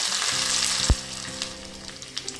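Five dried chillies, 8-10 cloves of chopped garlic and curry leaves fry in hot oil for a tomato pickle, giving a steady, close crackling sizzle broken by a single sharp stirring clack.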